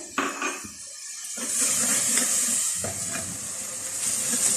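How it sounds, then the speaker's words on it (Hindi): Spice masala frying in a pan for goat trotter paya as a cup of water is added, giving a loud steady steam hiss and sizzle after a few brief clatters at the start. "1 कप इसमें पानी डालेंगे ताकि मसाला अच्छी तरह से भून जाए।"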